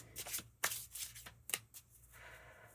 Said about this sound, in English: I've been shuffling your cards, all of the decks, actually.